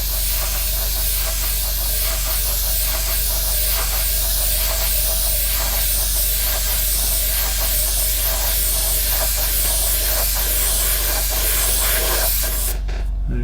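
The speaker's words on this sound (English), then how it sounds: "I'm going to give it a light tester coat to see how we get on" An airbrush lays down a light test coat of paint, giving a steady, close hiss that runs almost unbroken with faint pulsing, then cuts off with a brief clatter near the end.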